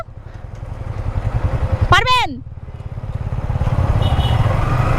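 A large motorcycle that broke down in the middle of the road rumbles with a steady low engine pulse that grows louder toward the end. A sharp rising and falling whistle cuts in briefly, and people talk nearby.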